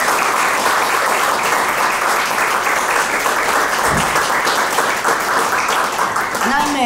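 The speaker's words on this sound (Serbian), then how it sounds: "ja bih e, zamolila jedan veliki aplauz za prodošljice za naše dve gošće" An audience at a Belgrade book talk applauds two guests, dense sustained clapping filling the room throughout, loud and close with no voice over it.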